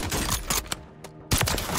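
Gunfire in the video game Warzone, with dense bursts of rapid automatic shots crackling loudly, breaking off briefly into a quiet gap before another heavy volley resumes.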